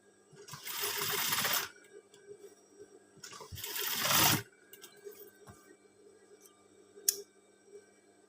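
A sewing machine stitches a scout uniform in two sustained runs of fast, steady whirring, each lasting about a second or so, separated by a pause with faint handling clicks.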